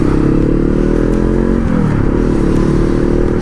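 Lightweight motorcycle engine revs loudly up close, a steady buzzing drone that dips and rises in pitch mid-way, with mechanical clatter underneath.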